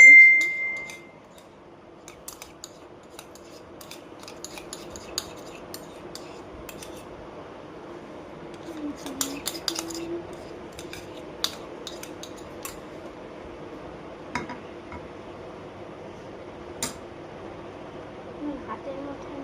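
Spoon clinks and scrapes against a bowl while a homemade slime mixture is stirred, producing scattered light metallic ticks over a steady quiet background with occasional soft talk.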